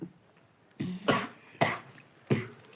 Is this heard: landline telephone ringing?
no